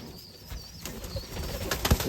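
Crested pigeons coo softly at close range, with a brief flutter of wings and a faint background hum.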